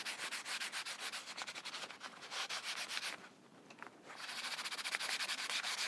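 Finish rubbed by hand onto a wooden Waldorf painting board, a rapid back-and-forth scrubbing hiss, close and steady, pausing briefly midway before resuming just as strongly.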